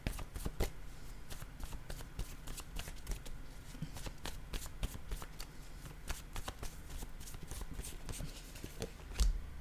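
Word cards are shuffled close up for several seconds as a quick, dense run of papery flicks and slaps, with a faint voice underneath at times.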